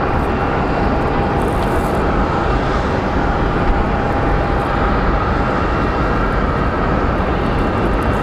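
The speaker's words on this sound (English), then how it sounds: "we're gonna get that CRJ crossing runway 26" A Mesa Airlines CRJ regional jet crosses runway 26 at Phoenix Sky Harbor Airport, its engines making a loud, steady, unbroken whine and rumble with no voices.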